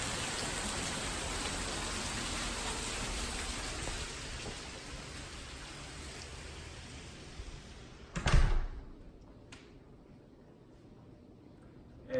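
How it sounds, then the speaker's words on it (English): Rain falls outside a building with a metal roof, a steady hiss heard from near the windows that quiets partway through, followed by a thudding bump and a few small knocks. "The noise that we are hearing from the rain is through the windows, but not coming through the roof."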